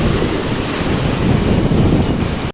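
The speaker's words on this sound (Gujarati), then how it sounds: "શું સાઉન્ડ હે પાણીનો." Fast-flowing river water rushing in full flood beneath a large bridge, a steady loud roar with constant broadband turbulence and wind buffeting the microphone throughout, no voices.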